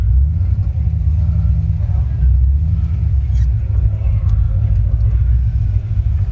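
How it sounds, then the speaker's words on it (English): Deep, steady rumble of a car on street tires idling and rolling slowly around the water box at a drag strip, loud and close, with a low throbbing drone throughout. "I am gonna drive around the water box here."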